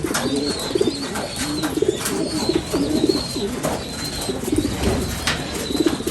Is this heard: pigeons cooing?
yes